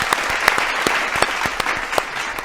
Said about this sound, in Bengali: দুজনের জন্য একবার জোরে হাততালি।